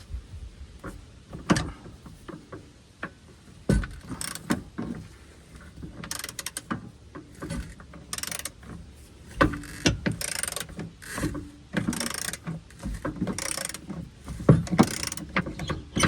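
A rusted rear bumper bolt on a Hooke Road bumper being loosened with a socket on a long lever, with repeated metallic clicks and clunks at an irregular pace, close and without talk.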